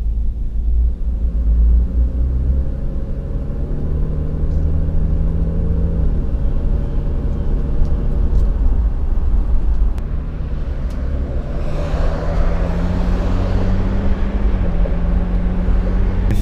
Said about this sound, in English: I'm just gonna step on it a little bit and you'll be able to hear the exhaust right away